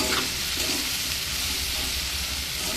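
Taro stolons (kochu loti) with turmeric cook in a covered pan over low heat, producing a steady, even sizzle and hiss that continues close by with no talking.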